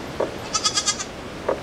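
An adult goat on a farm on Pico Island in the Azores gives a short wavering bleat, then two brief nasal calls follow, close and fairly loud over quiet barnyard background with no talking.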